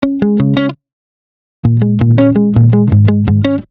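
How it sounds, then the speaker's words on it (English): Electric guitar played through a compressor pedal gives a bright, plucky, tightly squashed tone: a quick run of picked notes, a gap of silence, then a longer phrase of crisp, evenly loud plucked notes, close and alone. "we're going to keep this compressor pedal on actually because the sound is super compressed and plucky"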